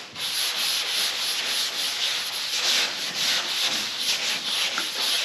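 Soaked sandpaper is rubbed over the body of a 1967 Chevelle wagon in close, steady wet sanding, a continuous rhythmic rasping scrub with no talk.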